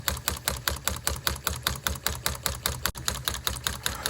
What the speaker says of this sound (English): The solenoids push the pins back and forth.